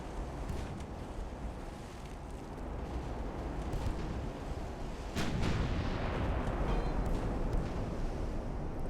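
Naval guns firing in the Ultimate Admiral: Dreadnoughts warship game, heard as a steady wash of wind and sea noise with a sharper boom about midway, followed by a louder, rumbling bed.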